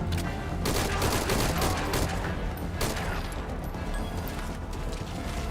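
Suppressed gunfire and dense crackling action from the Metal Gear Solid Ground Zeroes game, continuous and moderately loud, with repeated sharp shot transients across the whole stretch.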